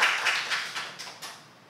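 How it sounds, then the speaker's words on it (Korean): A church congregation claps in a short burst of several quick, bright claps that fade out over a second or two, heard from across the room. "우리 감사의 박수로 하나님께 영광을 올려드리겠습니다"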